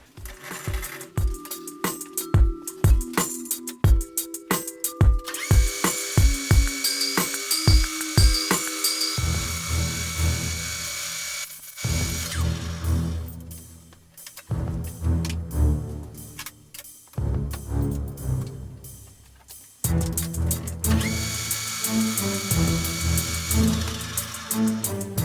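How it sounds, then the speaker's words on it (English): A center drill cutting metal on a lathe gives a whining machine drone with ticking and clicking, running in long stretches broken by brief pauses and restarts. "We're going to put a center drill in here"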